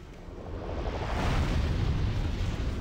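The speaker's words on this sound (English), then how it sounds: "you want to bait them into exploding, and then you want to bait the other one into exploding" Enemies exploding on the Fiery Path in Demon's Souls, a dense, sustained roaring blast that swells and holds loud for nearly three seconds with no speech.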